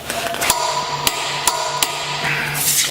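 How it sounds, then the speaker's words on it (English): Air impact wrench set to 200 foot-pounds on a lug nut: a few sharp, loud metallic hammering blows spaced apart over a steady pneumatic hiss, close up with no talking. "first up, our air wrench. Not a problem."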